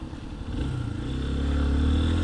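A Lifan KPX 250 motorcycle engine running at a low, steady idle, a soft continuous rumble that grows slightly louder toward the end, with no voices.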